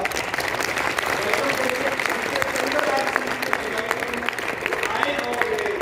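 An audience at a product launch event applauds to welcome a trainer, with dense, steady clapping that lasts throughout while a voice speaks over it.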